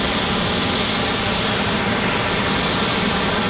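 A GlobalX jet departs Raleigh-Durham airport with a dense, constant engine roar, loud and close, unbroken for the whole stretch.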